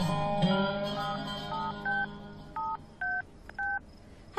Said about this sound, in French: Qu'est-ce que tu fiches avec ce téléphone ?